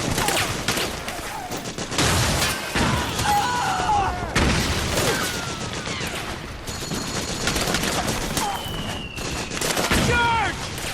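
Rapid bursts of automatic gunfire and explosions from a Metal Gear Solid 4 battle, loud and dense across the scene, with a soldier's voice shouting orders between volleys.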